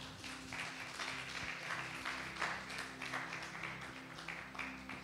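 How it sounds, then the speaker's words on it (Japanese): A Japanese church congregation claps for Jesus during a Father's Day service, a steady, soft wash of applause that sounds distant and faint throughout. "イエス様に大きな拍手しましょう"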